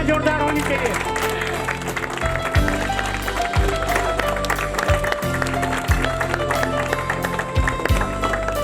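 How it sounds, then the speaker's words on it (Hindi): Applause rises at a retirement ceremony as scattered claps mix with background music and people talking nearby, giving a busy, mid-level clatter. "तालियां जोरदार होनी चाहिए।"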